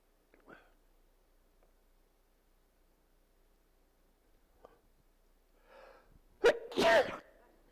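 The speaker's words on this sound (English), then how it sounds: "Every time I get to that microphone, I start sneezing." A single sharp sneeze from a person at a microphone bursts out near the end, preceded by a quiet gasping intake and faint breaths in an otherwise quiet room.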